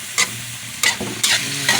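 Chopsuey vegetables such as carrots and broccoli are stirred in a hot pan, with four distinct scraping strokes over a steady sizzle, close and fairly loud.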